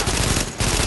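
A close, loud burst of rapid gunfire in The Division, a continuous rattle lasting about a second with a short dip midway.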